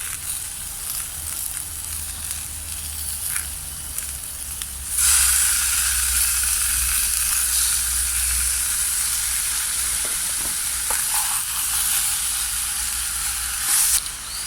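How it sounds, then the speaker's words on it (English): Bacon rashers and sausages sizzling on a Bushbox camping stove outdoors: a steady hissing fry that jumps louder partway through as the meat lands in the pan, then holds a continuous crackle without talk. "putting that bacon and the sausages in"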